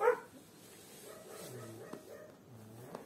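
Dogs at a homeless dog shelter bark and whimper, a few short yips and barks at moderate distance over a quiet background, with faint voices.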